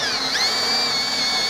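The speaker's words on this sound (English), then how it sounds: "We're drilling right through the center of the hanger into the door." A power drill fitted with a 3/8 bit bores through a barn door hanger into the door, giving a steady high whine that rises briefly as it bites in, close and loud with no voices.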